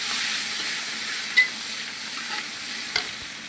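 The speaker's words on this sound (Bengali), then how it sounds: "পেঁয়াজ এখন লাল লাল হয়ে ফ্রাই হয়ে এসছে হালকা করে।" Onion and green chili frying in a pan give a steady, close sizzle, with a couple of faint scrapes from a stirring spoon.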